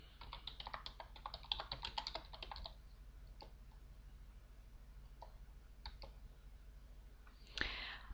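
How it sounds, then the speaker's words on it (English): A rapid burst of keystrokes on a computer keyboard enters a command in the text game Aardwolf, then a few sparse, isolated key clicks follow and a sharper clack lands near the end, close and with no talking. "So now we are going to type practice kick, as that is my warrior's attack skill."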